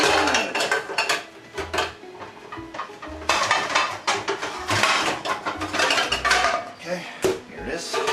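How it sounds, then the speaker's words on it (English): A medium skillet is pulled out from among pots and pans in a kitchen, giving a busy run of metallic clanks, bangs and scrapes, close and fairly loud, with someone talking between them. "Let's get a skillet out."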